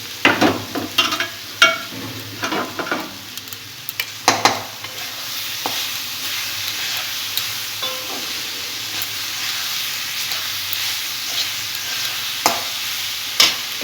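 Grated cauliflower stirred into a pan of frying masala spiced with shahi garam masala powder, for a cauliflower paratha filling: a steady close sizzle broken by repeated scraping spatula strokes in uneven bursts, with no voices.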